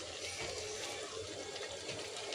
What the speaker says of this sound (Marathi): त्याच्यात मी आता थोडंसं पाणी घालते.